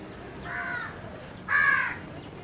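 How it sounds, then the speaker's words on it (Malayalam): A crow caws twice from a moderate distance, the second call louder and harsher, over a quiet outdoor background. "കാക്ക വിളിയേക്കണല്ലോ ദൈവമേ."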